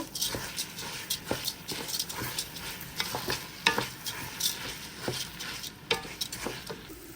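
Rice is stirred and fried in a pot with spiced chicken for biryani. Scraping strokes of a spoon come every second or so over a soft, steady sizzle, heard up close.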